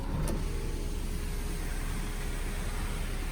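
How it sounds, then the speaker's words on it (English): A power sunroof on a 2007 Volvo XC90 3.2 opens with a steady, faint electric motor whir that runs evenly through the cabin quiet, with a small click near the start. "Got a sunroof right here."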